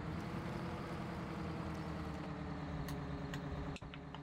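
Steady, droning engine idle from a large tractor in Farming Simulator 17, a continuous low hum with no talk, plus a brief click near the end.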